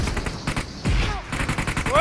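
Rapid bursts of automatic gunfire in PUBG Mobile, aimed at a vehicle, crackle in quick repeated volleys, loud and close, with a shorter pause midway and rising whistling tones near the end.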